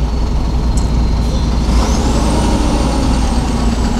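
A car rolls along a highway on the road from Kolkata to the Maha Kumbh, giving a steady low engine and tyre rumble, with a faint whine rising partway through.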